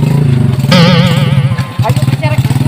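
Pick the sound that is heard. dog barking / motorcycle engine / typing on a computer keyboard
motorcycle engine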